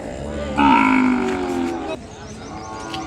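A young calf of six months to a year moos loudly and close at a busy cattle market fair in Kodad, one drawn-out call over a murmur of crowd noise.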